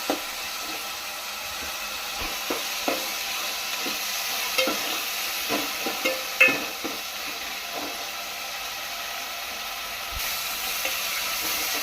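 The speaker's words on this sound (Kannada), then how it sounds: "ಟೊಮೆಟೊ ಸ್ವಲ್ಪ ಚೆನ್ನಾಗಿ ಫ್ರೈ ಆಗಬೇಕು" Tomato and onion frying in a pan for fish sambar while being stirred, with a steady sizzle and scattered spoon scrapes and clicks at close range, and no talking.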